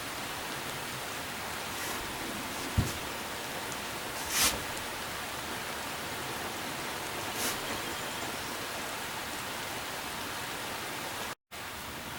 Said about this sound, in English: We are getting some of that much needed rain.